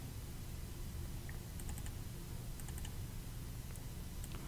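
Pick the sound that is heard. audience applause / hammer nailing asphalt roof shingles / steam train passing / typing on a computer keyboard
typing on a computer keyboard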